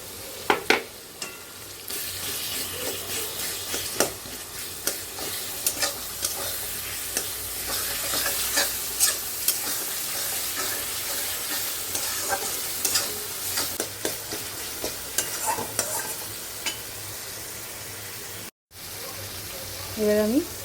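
Chicken stomach cooks Bengali style in a pan after tomato is added, giving a steady close sizzle. Frequent scraping stirs run through it, with a brief dropout near the end.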